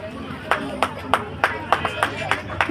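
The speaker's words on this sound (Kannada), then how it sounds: "ನಾವೆಲ್ಲರೂ ಜೋರಾಗಿ ಚಪ್ಪಾಳೆ ತಡಬೇಕಂತ" Scattered hand claps from a small crowd at a community honour ceremony on 14 April, a dozen or so sharp claps spaced irregularly over steady background murmur and chatter.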